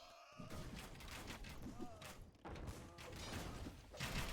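Bombard cannons fire in an Age of Empires battle, with dull booming thuds amid a busy mix of clashing combat noise, moderately faint and continuous.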